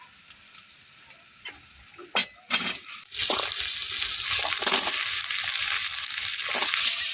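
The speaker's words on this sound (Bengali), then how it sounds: "এই পেঁয়াজের সাথে কচু আর আলু কিছুক্ষণ আমি একটু ভেজে নেব।" Taro and potato pieces frying with onion in a pan, a quiet start with a few clinks giving way to a steady, loud sizzle with stirring scrapes throughout; no talking.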